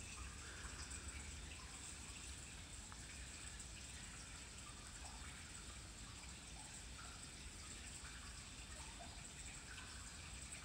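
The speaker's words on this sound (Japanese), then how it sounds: "水の音がするからなんか声に聞こえちゃう" Water gushes and trickles steadily in a tunnel in Nishiarai, Japan, a constant wet rush with scattered drips echoing, and no talking.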